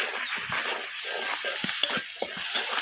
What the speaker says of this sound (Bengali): এখন একটু নাড়াচাড়া দিয়ে দিতে হবে